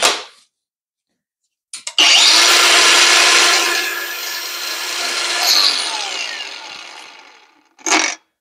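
A Dong Cheng cordless battery angle grinder spins up with a sharp start, runs at a loud, steady high-pitched whine for about six seconds, winds down, then gives a brief second burst.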